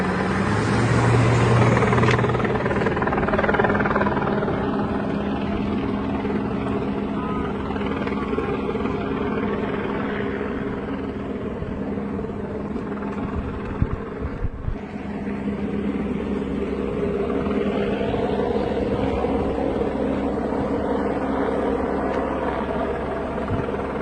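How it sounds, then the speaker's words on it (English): A helicopter flies overhead during a police encounter, a continuous loud rotor and engine rumble that holds for the whole stretch, with brief thumps partway through. "There's the helicopter."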